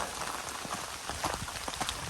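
Steady patter of rain striking an umbrella close by on the Ozark Trail, dense and even with small irregular drop hits throughout.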